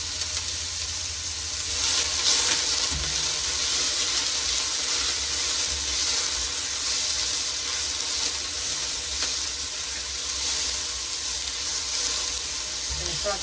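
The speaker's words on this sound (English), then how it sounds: "I'm going to saute that for a couple of minutes" Food sautéing in a big Dutch oven for black bean soup, a soft continuous sizzle with occasional stirring scrapes, fairly quiet and steady with a low hum underneath.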